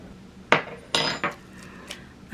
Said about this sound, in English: you want to scoop all that gel into your bowl